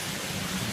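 Rain falls in a steady, even hiss that fills the short stretch, with a soft low rumble underneath and no voices.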